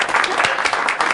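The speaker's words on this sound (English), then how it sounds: "let's just have the band maybe just applaud lightly" A talk show band claps lightly, a short, dense burst of applause that stays close and fairly loud for about a second with no talking.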